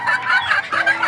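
A young chick recovering from fowlpox gives a rapid run of high, chirping peeps, close and fairly loud, with no talking.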